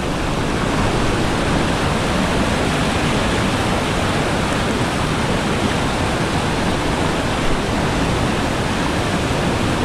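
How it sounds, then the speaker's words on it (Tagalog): Typhoon floodwater rushes hard against a bridge, a loud, continuous broadband roar like a waterfall that holds steady throughout with no pauses. "Ari po ay baha ng bagyong agahon."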